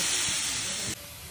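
Fried rice ingredients tipped into a hot pan give a loud, steady hiss of sizzling that cuts off abruptly near the end, leaving a quieter, softer sizzle.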